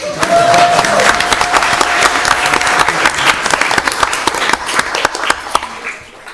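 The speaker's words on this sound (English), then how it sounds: "Yeah, please, a round of applause." Loud, sustained applause from a town council meeting audience, many hands clapping sharply and fading toward the end, with a brief tone over the first few seconds.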